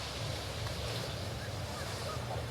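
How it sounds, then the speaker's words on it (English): Ocean surf rolling in at North Shore, Oahu, a steady, fairly soft wash of waves mixed with wind noise on the microphone, with no voices heard. "I mean, these are still pretty epic waves."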